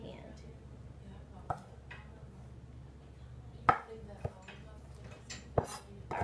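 A knife chops sharply on a cutting board while mincing vegetables, a handful of separate crisp knocks spaced irregularly under a low background hum, with a person speaking.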